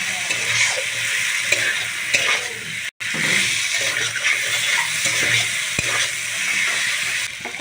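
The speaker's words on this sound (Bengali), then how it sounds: "ভাজা আলুগুলো দিয়ে ভালো করে কষাতে হবে।" Fried potatoes being stir-fried in sizzling masala for a hilsa and eggplant curry, a loud continuous crackle with scraping strokes of the spatula against the pan, briefly cut off once, close up with no voices.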